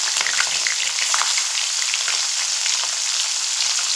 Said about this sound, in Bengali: এবার যে মাছ আমি লবণ হলুদ মেখে রেখেছি সেই মাছগুলো ভেজে নেব